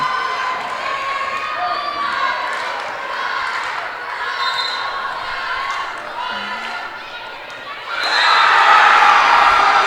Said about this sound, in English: Now the Cougars crowd is getting loud